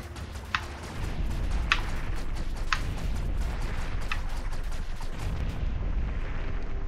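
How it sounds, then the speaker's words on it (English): Projectiles exploding on contact in the pixel-art adventure game Owlboy: several sharp pops and bursts spaced about a second apart over a steady low rumbling backdrop, moderately loud, with no talking. "they explode on contact"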